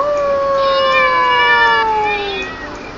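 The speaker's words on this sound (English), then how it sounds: "The shoe cat turned its head up and yowled" A cat yowls in long, drawn-out wails, two sliding cries close together, loud and clear with no other sounds.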